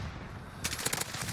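A burst of rapid machine gun fire in the Call of Duty Warzone video game, loud and close, breaking in suddenly after a steady background hum and rattling on for most of a second.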